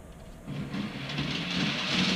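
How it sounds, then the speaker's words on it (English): A model railway locomotive starts running on its track as power returns through a faulty fish plate, a rising whirring motor hum with a faint rolling clatter, close and steady, growing louder over two seconds. "you can hear the loco"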